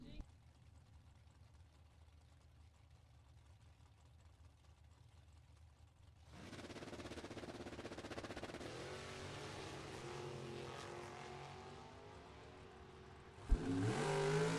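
A 1969 Camaro and a second car launch down a drag strip at a bracket racing event: a quiet idle first, then a sudden loud surge of roaring, revving engines that holds steady, with an announcer talking over it.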